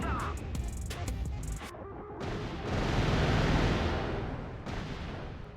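A bunker buster airstrike in the Mercenaries: Playground of Destruction video game sets off a series of heavy booming explosions, loud and rumbling, with sharp blasts early on and a sustained roar afterward.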